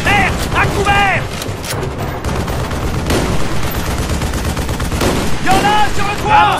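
Bursts of machine gun fire and scattered gunshots fill a village firefight in Call of Duty Black Ops, set in northern Vietnam, loud and close with shouted voices over the shooting.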